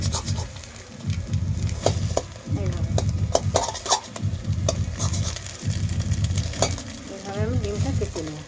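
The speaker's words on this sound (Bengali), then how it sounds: "এরপর আমি ডিমটা কড়াতে দিয়ে খুন্তি দিয়ে চেপে আমি এইভাবে পিস পিস করে একটু কেটে নেবো" A spatula presses and cuts an egg in a sizzling frying pan, repeated scraping strokes in an uneven rhythm over continuous frying sizzle, close and fairly loud.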